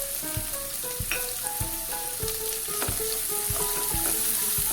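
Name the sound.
capsicum, peas and vegetables sautéing in ghee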